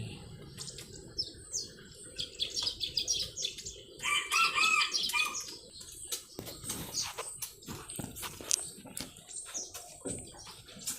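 A rooster crows a few times on a small farm in Pathum Thani, Thailand, where ducks, chickens and frogs are kept, amid chirping birds and faint background noise.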